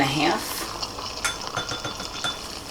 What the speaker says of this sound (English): Just stir it until all that cornstarch is dissolved.